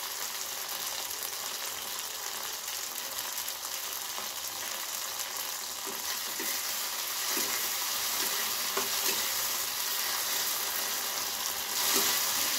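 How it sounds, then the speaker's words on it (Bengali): Bhindi frying over medium gas in a pan, a dense continuous sizzle with scattered soft taps and scrapes of stirring, loud and close, with nobody talking. "ভেন্ডিটাকে আমি খুব ভালোভাবে ভেজে নেব লাল লাল করে।"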